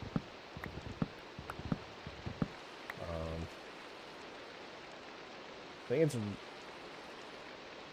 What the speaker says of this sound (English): it's raining in real life and in the game, so I'm hearing like double rain right now